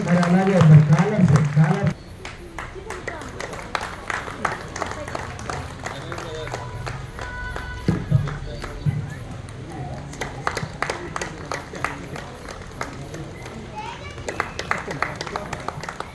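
Audience clapping at a Vasavi Club anniversary celebration in Mansoorabad, a scattered, fairly steady patter of hands at moderate distance running throughout, with a crowd murmuring and some talk mixed in.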